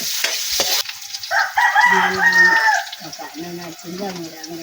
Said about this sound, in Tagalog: Ilalagay ko na agad itong sibuyas.